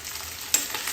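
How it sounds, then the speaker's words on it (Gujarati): Long-cut okra sizzles in hot oil in a pan, giving a continuous close crackle with a few sharp pops. "તો ભીંડાને આપણે એકદમ ફ્રાય કરી લેશું"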